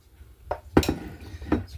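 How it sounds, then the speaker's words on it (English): A waffle maker's lid is shut, giving a few sharp metallic clanks and clinks in quick succession, close and fairly loud, with no talk. "So let's close the lid"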